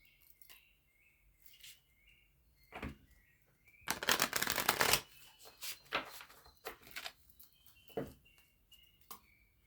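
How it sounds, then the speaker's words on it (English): Tarot cards shuffled by hand in a riffling burst lasting about a second, with scattered softer card flicks and taps before and after, quiet and close, with no talking. "When we shuffle, we're giving the cards energy."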